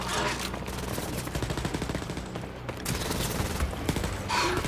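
Rapid gunfire in the shooter game Wolfenstein: Youngblood, sustained bursts of automatic weapons and overlapping shots rattling loudly and continuously with no pauses.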